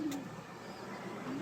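Pigeons coo softly at a racing-pigeon loft, a low murmuring call near the start and again at the end over a steady faint background hiss.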